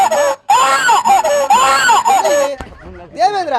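A baby's cry in a Tamil stage drama, the Vaali Motcham play: loud, continuous wailing with rising and falling pitch, likely a performer's voice imitating the infant, with a brief pause and a fresh burst at the end.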